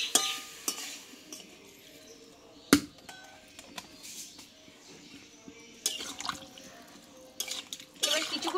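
Hot water goes into a simmering pumpkin curry with tomato, giving soft liquid stirring, splashing and bubbling sounds. Scattered utensil clinks and a sharper knock break in at close range, with no voices.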